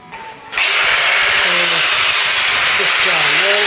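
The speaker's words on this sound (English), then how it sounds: "let me put the angle grinder in and slice this open and break those spot welds at the" An angle grinder cuts into the steel tub of a Ford Cortina Mk3 during restoration, starting after a brief pause and then whining loudly and steadily at close range without letting up.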